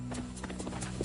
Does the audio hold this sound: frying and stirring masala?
no